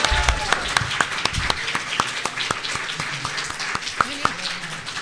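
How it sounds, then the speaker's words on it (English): Applause from the audience at the close of a Sonic the Hedgehog fan event panel, a brisk patter of many hands clapping close by, fairly loud, with a voice talking over it. "Can we give one last round of applause to Patrick Korimaru for setting up this amazing event?"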